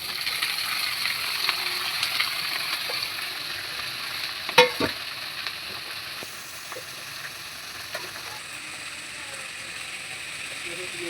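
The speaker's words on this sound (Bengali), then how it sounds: "এবার আমি কুমড়োগুলো দিয়ে নেবো।" Pumpkin pieces frying in hot oil with panch phoron spices, a steady soft sizzle with occasional scraping stirs and one sharp clatter partway through.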